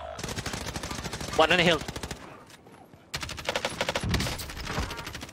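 Rapid bursts of automatic gunfire from a shooter video game run through most of the clip, loud and repeated with a brief lull in the middle, while players talk over the shots.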